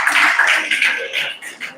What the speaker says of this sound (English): Let's give him a round of applause as anonymous.